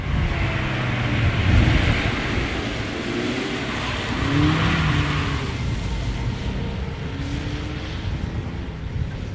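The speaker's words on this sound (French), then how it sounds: "permet de s'offrir rapidement quelques sensations de drift en inscrivant tôt la voiture en courbe" A Mazda MX-5 Miata engine roars and rises and falls in pitch as it accelerates and revs, drifting through corners on a race track, loud and continuous with rushing wind noise.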